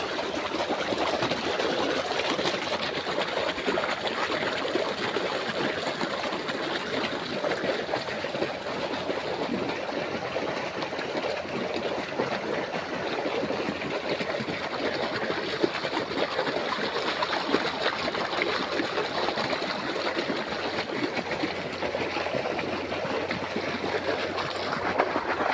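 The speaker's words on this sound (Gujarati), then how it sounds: "પોતનું પાણી ચાલુ હોય મિત્રો એમાં." Irrigation water runs through a mustard field outdoors, making a steady rushing, trickling flow that stays even and continuous, fairly close, with no talking over it.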